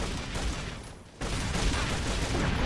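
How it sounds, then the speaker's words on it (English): Rapid gunfire from weapons in the video game Unreal Tournament, a dense, continuous burst of shots that breaks briefly near the middle and then resumes just as loud. "You just shot your own teammate."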